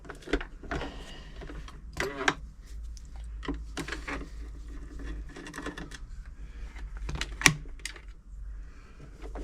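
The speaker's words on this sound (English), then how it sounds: "I use the electric screwdriver for this." An electric screwdriver takes screws out of the underside of a Janome JD1822 sewing machine, giving several short, close whirring bursts separated by pauses and light handling clatter.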